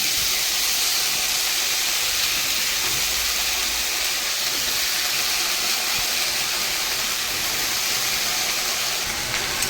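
Soaked, drained jujube berries in hot oil in a wok give a steady, dense hiss and sizzle. It is close and continuous for nearly ten seconds, with no talking over it.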